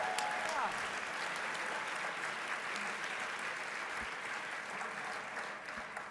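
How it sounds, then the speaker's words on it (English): Steady applause fills a charity gala for a colorectal cancer research foundation, following an auction bid, sustained and fairly even from start to finish with no talk over it. "Huge round of applause to all of the families."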